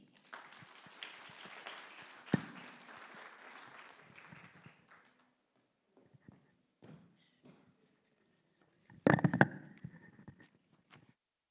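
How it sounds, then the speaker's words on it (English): Brief audience applause at a university lecture conference, scattered claps fading into sparse taps and a short louder burst near the end. "Another round of applause"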